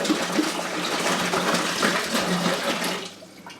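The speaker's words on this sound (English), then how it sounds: "now we're just going to go ahead and pour our 2 gallons down in" Two gallons of water pour steadily into a cold brew container, a loud continuous gushing splash that fills the whole stretch before cutting off abruptly near the end.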